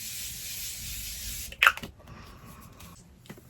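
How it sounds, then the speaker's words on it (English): Morphe Sweet Peach setting spray misted onto a face: a steady close hissing spray for about a second and a half, then a short rustle and soft handling sounds. "I'm just gonna spray my face with a bit of the Morphe setting spray."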